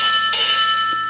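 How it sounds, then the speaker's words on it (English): Electronic bell on an Urtopia Carbon 1 carbon-fiber e-bike, a clear sustained ringing chime with steady tonal overtones, loud and close, sounding alone for about a second. "And you can custom set your bell. There's different sounds, which is pretty cool."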